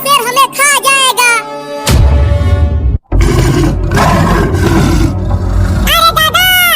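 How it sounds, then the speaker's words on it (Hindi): A cartoon lion lets out a loud, sustained roar after a short pause, with animated character voices talking before and after it. "फिर से शेर की दहाड़ने की आवाज आई।"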